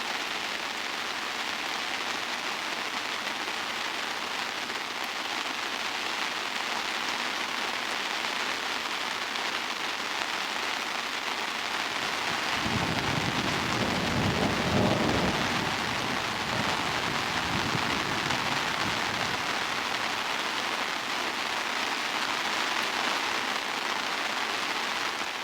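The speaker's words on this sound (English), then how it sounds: "I've never seen rain like it, and I've seen horrendous rain overseas" Heavy rain pours beside a swollen river, a dense continuous hiss of drops on surfaces that swells louder midway, with a low rumble like distant thunder underneath.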